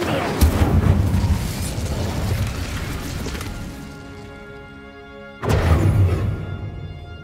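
Incendio fire spell cast in Hogwarts Legacy, a long roaring, crackling blast of flame that fades away, followed by a second sudden burst near the end.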